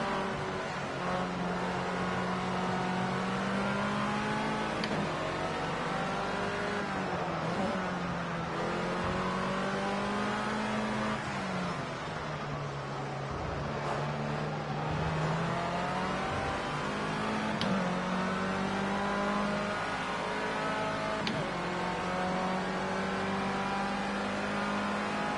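Formula C race cars in Project Cars 2 drone continuously at close range, the engine pitch climbing and dropping through gear changes as cars brake and accelerate through a chicane, with no talk.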